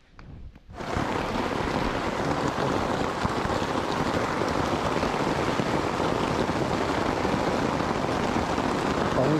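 Heavy rain pours onto a tent during a night camp on the trail to Harishchandragad Fort, beginning after a short quiet moment and then holding as a dense, steady, close hiss.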